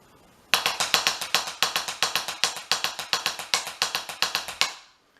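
A rapid run of sharp percussive hits in a steady syncopated Bamboula rhythm, bright and close, continuing for several seconds before stopping.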